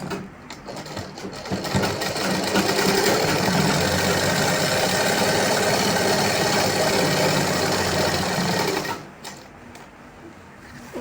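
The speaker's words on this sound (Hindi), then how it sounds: "अपने नेफे को अपनी इलास्टिक के हिसाब से मोड़ते हुए इस तरह से इस पर सिलाई चलाऊंगी" A sewing machine stitches the elastic waistband of a palazzo, running in one steady, loud whirring burst of about seven seconds, with quieter handling sounds before and after.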